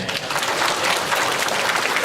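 A convention crowd at a fan festival closing ceremony gives loud, dense applause, a continuous roar of clapping close and steady throughout the short stretch.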